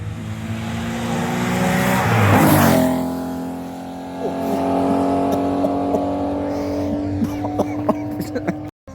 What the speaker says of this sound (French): Porsche.